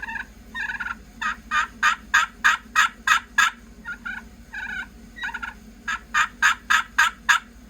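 A wooden turkey pot call worked by hand produces loud, close yelps in rhythmic runs of about six to eight notes, separated by short pauses, imitating a turkey hen's calling.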